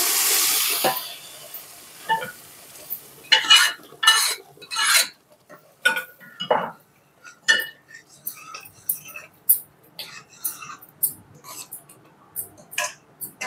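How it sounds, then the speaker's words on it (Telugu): Hot oil hisses briefly at first, then a spoon scrapes and clinks against a pot in irregular bursts as cooked lentils are stirred into the tempering, close and fairly clear. "మనం ఇందాక ఎనుపుకున్న పప్పును వేసుకొని మిక్స్ చేసుకోవాలి"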